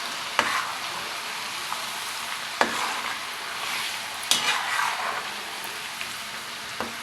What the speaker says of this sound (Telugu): పచ్చివాసన పోయేంత వరకు వేయించుకోవాలి. అల్లం వెల్లుల్లి పేస్ట్ బాగా వేగింది.